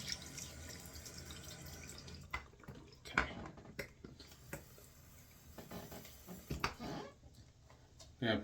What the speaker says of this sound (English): Gonna put some more water in here and relather.